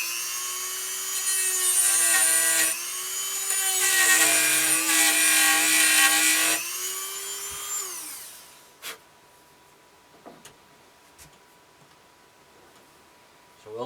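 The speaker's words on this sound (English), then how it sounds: "Then we'll take our Dremel and we're going to take a little bit out in here so we can inset our" A Dremel rotary tool carving a recess for a screw in a wooden ventriloquist figure gives a loud, steady high whine with grinding for about seven seconds, then spins down, followed by a few faint knocks and handling sounds.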